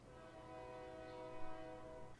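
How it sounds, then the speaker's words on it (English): A train passes with a long steady horn blast sounding over a continuous rumble of rail noise, fairly distant and alone with no voices. "Another train."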